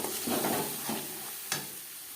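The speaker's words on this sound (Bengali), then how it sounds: "যেহেতু আমার মশলার পরিমাণটা বেশি, মশলা কষাবো" Garlic, onion and tomato paste frying over a high flame, a steady close hiss and sizzle broken by a few short stirring scrapes.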